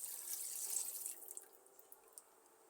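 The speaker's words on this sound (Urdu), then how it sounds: "سالن میں یخنی کا پانی شامل کر دیں گے" Yakhni stock water is poured into a pot of curry for pulao, a steady splashing pour that fades after about a second into a few faint drips and trickles.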